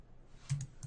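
Computer keyboard keys being tapped, two or three faint, quick clicks in a quiet room, close by and isolated.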